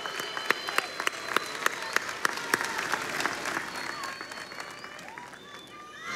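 Audience applause at a university commencement ceremony in 2022, a steady wash of many hands clapping in a large venue with a few sharp louder claps standing out, gradually thinning toward the end.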